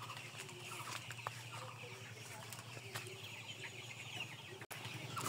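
Layer chickens at a poultry farm cluck and cackle as a busy flock, with overlapping calls over steady barn noise and a faint background voice.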